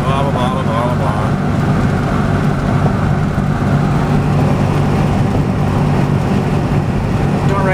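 An old beater car on a long drive hums along the road with a steady low engine drone and road rumble inside the cabin, continuous and fairly loud throughout.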